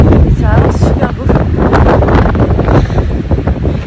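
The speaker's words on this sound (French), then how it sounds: "le vent souffle super fort" Strong wind blowing at Cefalù, Sicily, a loud, continuous roar buffeting the microphone, with a voice briefly audible beneath the gusts.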